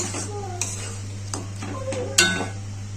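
A spoon stirs egg posto with garam masala in a pan, giving a few distinct metallic scrapes and clinks over a low steady hum, close and fairly quiet.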